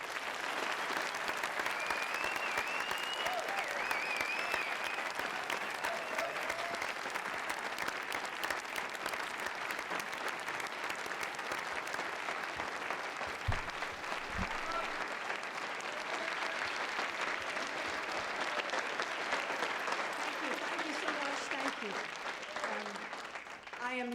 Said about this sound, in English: a generous round of applause for Ms. Sinead Hamilton, crime reporter of the Sunday Globe